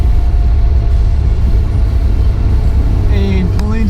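A home-built Datsun 240Z rolling downhill on a track, a steady low engine and road rumble running close and continuous, with a faint brief tonal whine near the end.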